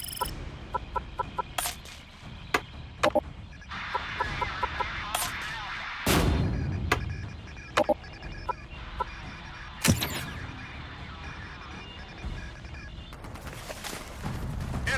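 Naval guns in the Battleship video game firing in a series of sharp, loud booms and cracks, scattered irregularly over a rumbling battle background with a few heavier blasts.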